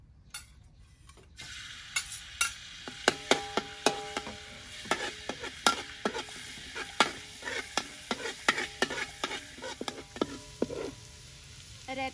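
Garlic sizzling in hot soybean oil while being stir-fried, a steady close hiss broken by sharp repeated clinks and scrapes of a utensil against the pan, with no talking.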